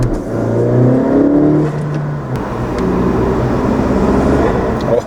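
A 2017 Honda Civic 1.5 turbo fitted with an AF Dynamic cold air intake revs loudly and close by, its engine note rising and holding at low RPM under high load, with a steady throaty drone throughout.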